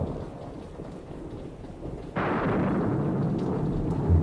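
A midnight thunderstorm with heavy, pouring rain and wind. A low, soft rumble suddenly swells into a louder, fuller downpour about halfway through, and no voices are heard.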